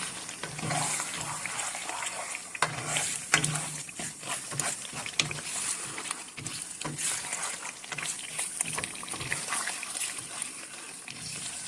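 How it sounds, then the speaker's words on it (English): Spiced goat liver stirred in a pan makes continuous close sizzling and wet hissing, broken by irregular clattering scrapes of the spoon. "Stir in very well. All spices gone in mixed with the liver."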